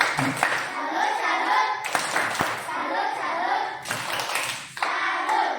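Schoolchildren in a classroom perform the tepuk salut clapping routine, patterned group claps in bursts with brief pauses, mixed with children's voices chanting along.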